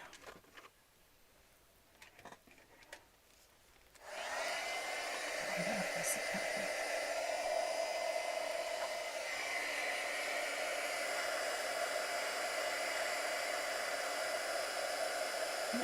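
Heat embossing tool heating embossing powder on craft stamp work, a steady blowing whoosh that starts abruptly after a few seconds of light desk handling and runs on loudly and evenly to the end.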